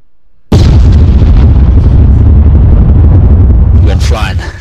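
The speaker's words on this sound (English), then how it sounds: "The explosion was real." A loud video game explosion that sends hatchback cars flying: a sudden booming burst that hits at full volume and then rumbles on as a heavy, sustained roar before tapering off, with a voice coming in near the end.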